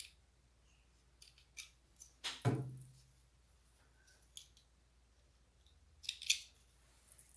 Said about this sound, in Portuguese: Corto bem os fiozinhos.